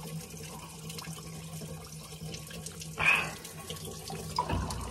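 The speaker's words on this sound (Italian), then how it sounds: "Si riempie la tanica da 10 ovviamente." Spring water running from a fountain into a 10-liter jerrycan, a soft steady stream with a low hum beneath and a brief louder gush partway through, heard close with no talking.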